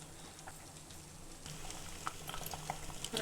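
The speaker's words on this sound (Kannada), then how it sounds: "ಬೇಯಕ್ ಬಿಟ್ಟಿದ್ದೀನಿ ಒಂದೆರಡು ನಿಮಿಷ ಬೇಯಲಿ" Vegetables simmering in a pot on a stove, a soft steady bubbling and faint sizzle with a few small ticks, low and quiet throughout.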